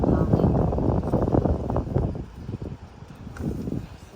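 Strong wind buffets the microphone on a sixth-floor rooftop in London, arriving as uneven low rumbling gusts that rise and fall while a person talks over it.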